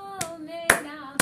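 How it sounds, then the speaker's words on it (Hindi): Hand claps from people at an informal outdoor singing session in the hills, three sharp separate claps spaced about half a second apart over a sustained tonal hum. "ताली बजा भाई इसके लिए, ताली बजा"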